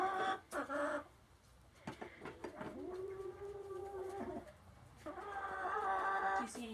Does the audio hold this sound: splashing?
no